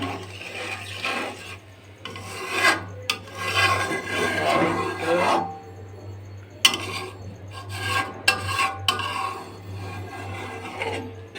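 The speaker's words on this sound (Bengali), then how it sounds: "নাড়াচাড়া করে" A spoon stirs a fish and flat bean curry in a pot, making rough scraping and rubbing strokes in irregular bursts, close and moderately loud, with short pauses between.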